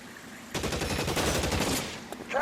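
Sustained bursts of gunfire from the L.A. Noire video game, dense overlapping shots with rapid fire, loud and close, ending with a brief voice.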